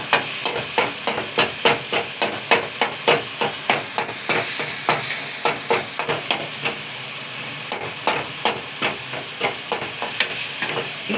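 Ingredients for a lentil dumpling kuzhambu are sautéed and mashed in a pan, with a steady run of rhythmic scraping and pressing strokes over a constant frying hiss, close and fairly loud.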